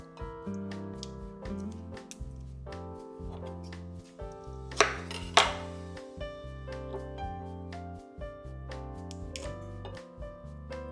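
Knife cutting endive leaves in half on a cutting board while a salad is prepared; a series of crisp, close chops in a steady rhythm over soft background music, with a couple of louder knocks in the middle.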